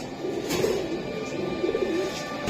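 A pair of pigeons at a sale coo in low, throaty rolls, steady and fairly close across the whole stretch, with no voices over them.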